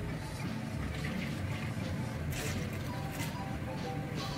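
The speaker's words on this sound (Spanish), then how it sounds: "Vamos a ponerle un poquito de agua a este licuador." Water poured into a blender jar while making Guatemalan kak'ik, a steady close splashing and gurgling fill running throughout with no voice over it.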